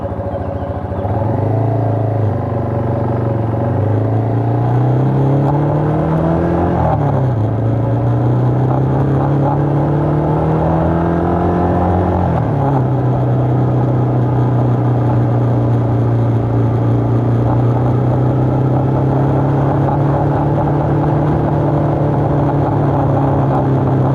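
A Yamaha TW200 motorcycle rides fire roads and dirt roads in a state forest, its steady single-cylinder engine droning loud and close throughout, with a few rising revs and gear changes early on and no talk.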